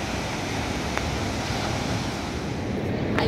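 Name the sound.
sea waves at Ganpatipule beach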